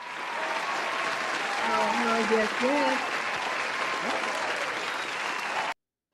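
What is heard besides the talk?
audience applause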